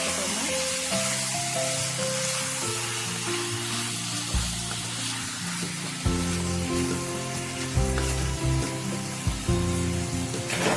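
Chettinad-style chicken pieces frying in a pan of hot oil, with a steady, loud sizzle and crackle throughout and occasional stirring clatter.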